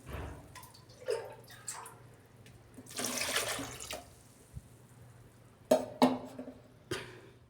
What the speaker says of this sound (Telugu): దీనికి సరిపోయినంత వాటర్ వేసుకోవాలి.